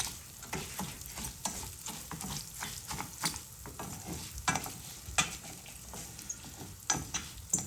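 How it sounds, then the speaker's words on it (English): Rice tossed into hot oil for Spanish rice crackles with a faint, continuous sizzle, broken by irregular scraping and stirring taps throughout. "We're gonna dump in our rice now. Hear that little bit of a sizzle."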